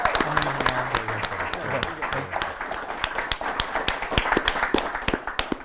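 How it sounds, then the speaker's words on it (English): An audience at a comics publisher's summit panel claps in a steady round of applause, dense and sustained, while a voice speaks briefly over it. "let's have a big round of applause for Matt and for Rapture"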